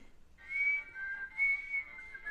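A person whistles to a cat, a short, clear, high tune of sustained notes with slight pitch shifts, soft and close in an otherwise quiet room.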